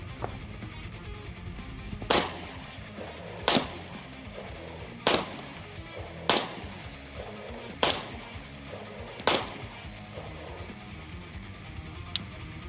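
Seven sharp gunshots from a Diamondback DB9 Gen 4 pistol firing Federal HST hollow points out in the desert, evenly spaced about a second and a half apart, loud and close with no talking.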